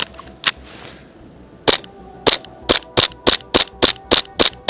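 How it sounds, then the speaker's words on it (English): An airsoft pistol styled after a John Wick gun fires close up, first a couple of separate shots and then a fast run of about nine sharp evenly spaced cracks. "Now watch, I'll shoot it once."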